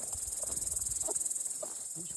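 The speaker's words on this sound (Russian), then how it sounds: "Кузнечики чирикают." Grasshoppers chirp steadily through a forest at night, a dense high-pitched trill running continuously and fairly close, with faint low rustles and a few soft murmurs beneath it.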